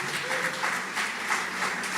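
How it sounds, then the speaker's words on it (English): Audience applause at a football legends tribute event, a steady broadband patter of many hands clapping at moderate level with no talk over it. "I would like to ask you to join me in applauding Mr. Ernest James."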